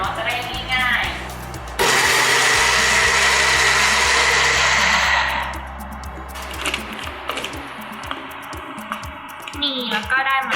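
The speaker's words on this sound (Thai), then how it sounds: "อันนี้คือมะยงชิด 250 กรัมนะคะเราใส่ลงไปในเครื่องปั่นเลยเนาะจะได้ง่ายๆ" A kitchen blender purees 250 g of Marian plums for a no-bake cheesecake, giving a loud, steady whirring roar for about four seconds, with talking and handling sounds before and after.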